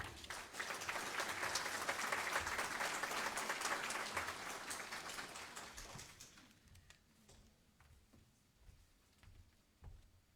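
A seminar audience applauds warmly to welcome a speaker on the role of lawyers in Bolivia. The clapping is dense and sustained for several seconds, then thins out into scattered claps.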